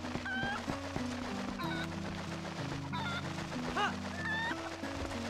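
Repeated chicken clucks and squawks in Zelda Twilight Princess HD, with four or five short calls spaced across a steady background music loop and no talking.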